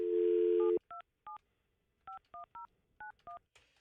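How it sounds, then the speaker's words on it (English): Telephone touch-tone dialing on a morning radio show: a dial tone cuts off, then eight short, evenly clipped DTMF beeps follow in uneven groups, clear and isolated. "Let me try Roxanne one more time before we move on"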